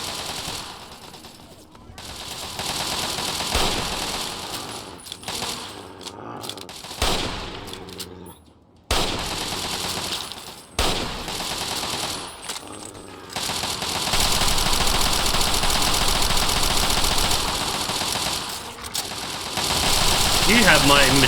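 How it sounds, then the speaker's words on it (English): Machine gun fire in Fallout 3, set in the Capital Wasteland, with loud sustained bursts broken by short gaps and long unbroken runs near the end, mixed with game noise and a voice speaking. "You have my machine gun."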